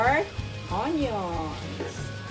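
Onions hit a hot pan in the middle of cooking pork hamonado, giving a soft, steady sizzle that runs under a person talking throughout.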